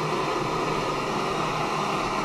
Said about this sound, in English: The stoves are a little noisy, but not terrible.